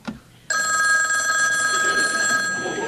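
An old-style telephone bell starts abruptly after a brief quiet moment and rings in one continuous loud metallic trill, close and bright, with no one speaking over it.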